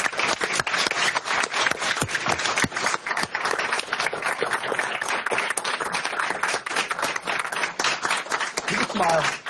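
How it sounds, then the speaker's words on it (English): A room at a borough council meeting breaks into a sustained round of applause, many hands clapping densely and steadily for several seconds, with a few voices mixed in. "I think Lou deserves a round of applause also"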